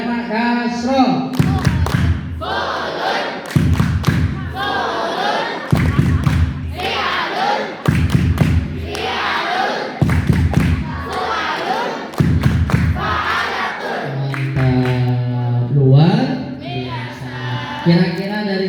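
A group claps rhythmically in unison during an Arabic grammar training session, repeated sharp clap patterns alternating with loud group chanting and a voice leading, then a sung phrase near the end.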